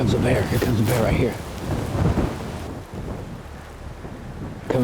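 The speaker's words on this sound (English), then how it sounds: "Dang, this wind." Outdoor wind buffets the microphone beside a creek in Alaska during a brown bear hunt, a loud, steady low rumble that eases somewhat partway through and surges again at the end.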